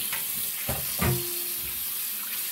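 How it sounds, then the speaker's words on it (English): Tap water runs over cooked lasagna noodles in a kitchen sink, a quiet steady stream with a few soft splashes and clunks as the noodles are handled. No one speaks. "I'm trying to rinse these noodles a little bit"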